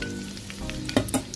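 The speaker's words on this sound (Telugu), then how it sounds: "నూనె చక్కగా వేడెక్కిన తర్వాత తరిగి పెట్టుకున్న ఉల్లిపాయ పచ్చిమిరపకాయలు వేసి వేపేద్దాం." Chopped onions and green chillies hit hot oil for a prawn gongura curry, giving a loud, steady close sizzle with a couple of sharp stirring clinks near the end.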